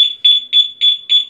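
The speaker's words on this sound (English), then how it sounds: "Alarm na mag-ingay." A Rusi Royal 125 motorcycle alarm sounds five loud, evenly spaced electronic beeps, each a sharp high-pitched pulse close to the bike, with no voices.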